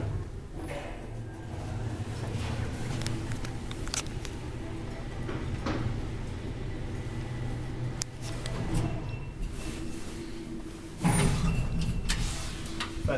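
An old Otis traction elevator in a Helsinki apartment building runs with a steady low hum and rumble throughout, with a few faint clunks and a slightly louder surge near the end.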